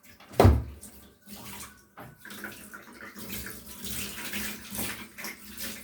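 Water runs from a tap into a bath as a kitten gets its first wash, opening with a sharp knock, then a steady splashing rush that builds and fluctuates in the background.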